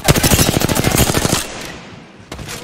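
Rapid automatic gunfire strikes a player in the video game Apex Legends, a loud burst of many quick shots lasting over a second, then a lull and one more short burst.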